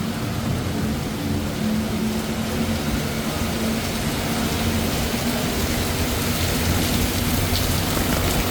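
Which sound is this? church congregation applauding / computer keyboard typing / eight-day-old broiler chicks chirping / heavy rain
heavy rain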